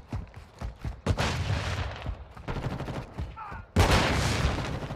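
Gunfire from Call of Duty: Modern Warfare II multiplayer, a run of sharp close shots and bursts with a loud blast near the end, mixed with other game noise.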